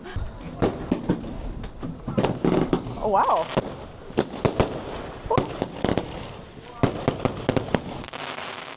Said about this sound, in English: And there's fireworks.